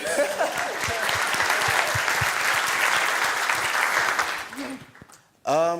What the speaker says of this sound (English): can we clap for you first?